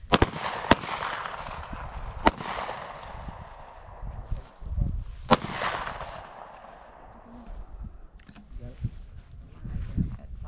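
Pistol shots at a shooting range during a basic pistol class: four sharp, loud cracks spaced a few seconds apart, with people talking between and around them.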